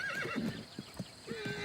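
A lead stallion and his mares call out with high, wavering neighs and whinnies, mixed with a few hoof clops, heard close and fairly quiet.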